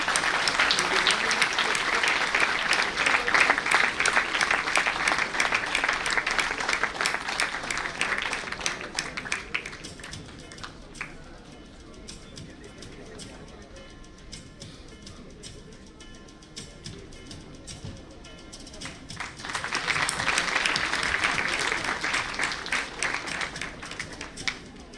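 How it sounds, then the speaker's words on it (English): Audience applause fills a national conference hall for CA students during a felicitation, with loud sustained clapping that fades to a quieter murmur midway, then swells again into a second strong burst of clapping. "May we have a huge round of applause."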